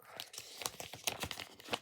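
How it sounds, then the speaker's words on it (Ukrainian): Crinkly plastic rustling and tearing, close by, in short irregular bursts as a small packet of sticker plasters is pulled open. "От ми відкрили пакетик."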